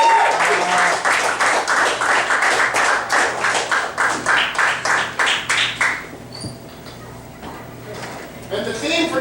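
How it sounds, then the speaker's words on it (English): Audience applause for a local poet at a live evening show: loud, rhythmic clapping from a small crowd that surges in waves for six seconds, then thins out to scattered claps and murmuring. "Give him a round of applause."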